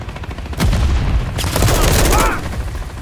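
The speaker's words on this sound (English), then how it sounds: "Grenade!" Call of Duty Modern Warfare 3 combat: a booming grenade blast and rapid bursts of gunfire, loud and close, in two dense waves of shots.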